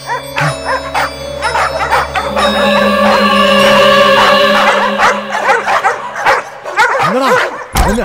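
A dog barks and yips repeatedly, loud and close, with whimpering in between, over a steady tonal background.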